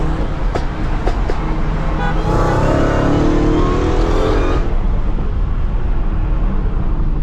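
An SRT Hellcat accelerates hard while racing a BMW M340i, a loud, close engine roar that swells in the middle and then eases back, heard from inside the car.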